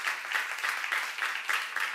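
Congregation applauding at a Korean church seminar service, a steady wash of many hands clapping at moderate distance, dense and continuous with slight surges, no voices on top.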